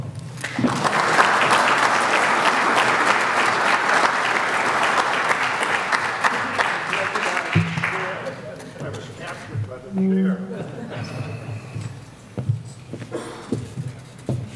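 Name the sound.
audience applause welcoming General Gordon Sullivan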